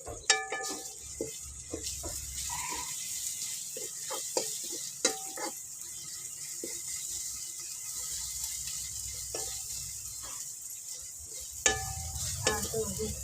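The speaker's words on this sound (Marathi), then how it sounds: "छान तळून तेलामध्ये परतून घ्यायचं" Masala with turmeric and tomato frying in oil for a spicy brinjal curry on a village wood-fired chulha, a steady soft sizzle broken by sharp scraping clicks of stirring, with no talk.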